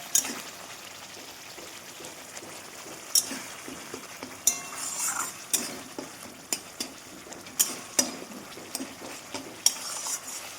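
Vegetarian potato curry (aloo dum) with tomato sautéing in a pan, soft sizzling broken by repeated scraping and clinks of a spatula against the metal, irregular strokes every second or so, close and fairly quiet.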